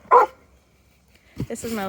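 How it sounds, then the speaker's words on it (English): Jackie the dog barks once up close, a single sharp bark followed by a quiet pause, then a voice starts talking on a farm with chickens. "I apologize now about Jackie's barking."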